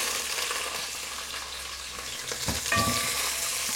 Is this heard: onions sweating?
yes